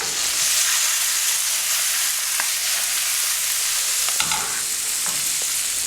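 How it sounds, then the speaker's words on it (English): Brussels sprouts sizzle steadily in a hot pan, a constant bright hiss and crackle with a few faint clinks of stirring, no voices. "So we're gonna let these Brussels sprouts cook for about 4 minutes."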